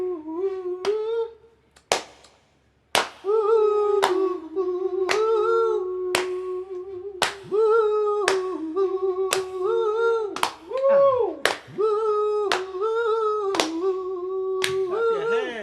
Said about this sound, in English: He's gonna clap his hands,